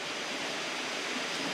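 A jungle river in Indonesia flows steadily, a dense, continuous rush of water that stays close and even throughout with no voices.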